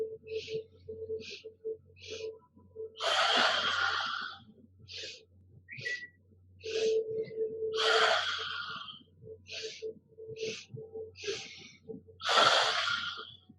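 Deep, audible inhales and forceful exhales repeat through a yoga breathing exercise, with several long breathy surges and short sharp puffs, close and fairly loud in a quiet room.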